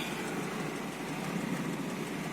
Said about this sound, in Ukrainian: Понижайку вімкнув і їду собі на перші передачі.